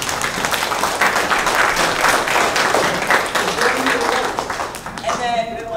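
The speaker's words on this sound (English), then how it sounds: "So I would like to give them an applause." An audience applauds at a 2021 commencement ceremony, a dense, sustained burst of many hands clapping, close and loud for about five seconds before it thins out at the end.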